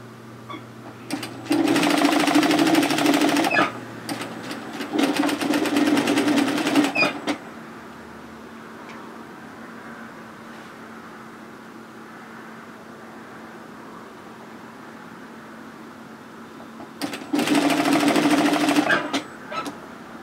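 A sewing machine stitching a two-fabric knit tee runs in two loud, steady bursts of about two seconds each. A quieter stretch with a low hum lies between them, and a third burst follows near the end.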